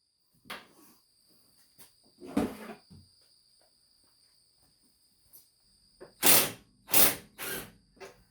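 A ratchet tightens the lower bolts of a Rough Country lift kit with short bursts of fast clicking. Faint isolated clicks come first, then several loud, close ratcheting strokes in quick succession near the end.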